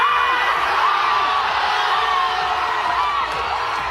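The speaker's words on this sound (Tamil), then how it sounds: "அப்போது அங்கிருந்த ரசிகர்கள் வடசென்னை வடசென்னை என கூச்சல் எழுப்பினர்." Fans at a film event shouting and cheering "Vada Chennai" in a dense, continuous roar of overlapping yells and whoops, loud and sustained for the whole stretch.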